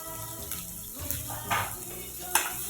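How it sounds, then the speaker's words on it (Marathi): Chopped tomato hits softened, golden onions in a hot pan, giving a continuous sizzle with a few scraping stirs and occasional watery bursts as it cooks down for a sprouted moth bean bhaji. "त्याच्यामध्येच आता मी बारीक चॉप केलेला टोमॅटो पण टाकून घेणार आहे"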